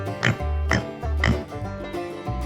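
Farm pigs in their muddy sty grunt and oink in several short, close bursts, roughly one every half second, with no talking over them.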